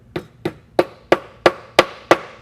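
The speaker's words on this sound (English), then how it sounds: "So I start just by taking the hammer and kind of tapping." A hammer taps brass wire into an inlay hole in a workshop, seven sharp, evenly spaced strikes close by, each a short crisp knock with no talking.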